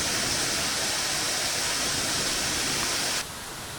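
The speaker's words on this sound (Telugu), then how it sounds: "వావ్, ఏం చూడండి ఎంత బాగుందో వాటర్ ఫాల్స్" Waterfall at Thottikona near Tirupati in the rainy season: a steady, loud broadband rush of falling water, close and unbroken, that drops abruptly in level near the end.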